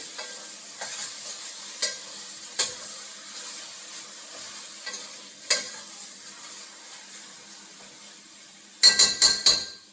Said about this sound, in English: As I keep stirring the chicken.